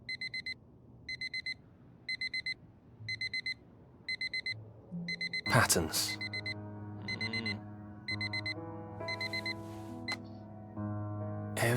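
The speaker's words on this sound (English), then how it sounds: "Every day that alarm goes off." A digital alarm clock in the game Fragments of Him beeps in regular rapid bursts, interrupted midway by a loud clatter and a low tone, then the beeping resumes over a steady hum while a voice briefly speaks.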